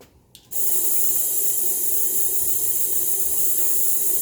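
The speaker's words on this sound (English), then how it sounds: "You hook it up to your air compressor, and then we just hit the valve, and we can suck all the fluid out" Air-powered fluid extractor hooked to an air compressor on a 1985 Mercedes 300SD, opening with a brief click then a steady, loud hiss of suction drawing fluid out, continuous to the end.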